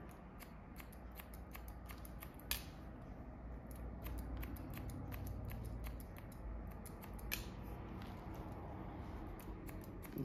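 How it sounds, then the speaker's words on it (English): Scissors point cutting into lengths of hair while shaping a short spiky women's haircut, giving a steady run of close, crisp snips with louder clicks near 2.5 and 7.3 seconds over a constant low background hum. "So I'm just gonna point cut into that."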